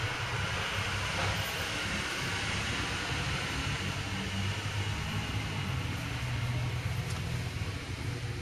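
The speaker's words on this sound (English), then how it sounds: "just like always, I've got large vehicles driving by" Large vehicles rumble past outdoors, a broad steady roar with low droning that holds for several seconds, fairly loud and without speech.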